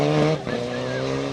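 A rally car overshoots a corner on an asphalt stage, its engine revving loudly and then cutting back as tyres scrub and skid briefly, with faint voices in the background.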